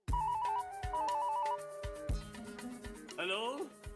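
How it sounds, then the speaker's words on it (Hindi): A telephone rings as a call is placed in a Hindi TV sitcom scene: two short bursts of warbling electronic trill, loud and close, followed by voices and a rising musical sweep. "किसको फोन लगा रही है?"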